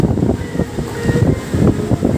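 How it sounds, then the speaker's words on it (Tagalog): Strong gusting wind with heavy rain during a motorbike food delivery run, a loud continuous roar and rumble pressing on the microphone, rising and falling in uneven gusts. "Kasabay na hangin"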